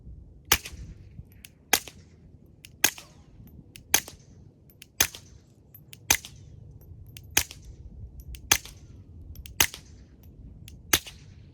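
A suppressed firearm fires cheap gold-colored bullets in about ten sharp, evenly spaced cracks, roughly one per second, close and crisp over a quiet background.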